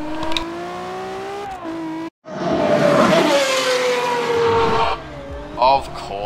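A Lexus LFA GT car in the video game Forza Horizon 2 roars loudly at high revs, its engine pitch climbing through gear changes with a brief cut, then a surge of tire squeal and skidding before the revs settle.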